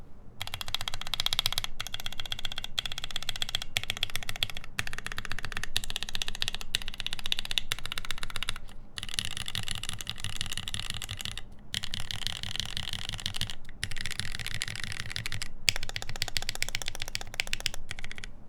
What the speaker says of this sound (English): this is what the numpad sounds like